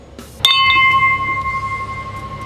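A bright bell rings once in a home kitchen during a Halloween air-fryer wings cooking show, a sharp strike followed by a clear sustained ringing tone that slowly decays over a couple of seconds.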